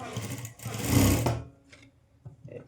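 A home sewing machine stitches a blouse in a steady mechanical whir that rises and then stops, followed by a few faint clicks and light handling sounds.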